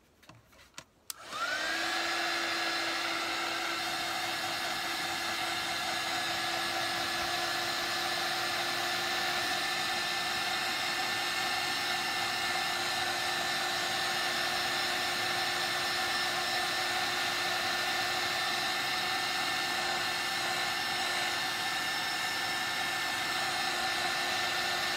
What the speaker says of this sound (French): Je vais essuyer ça tout de suite. Hop, je sèche.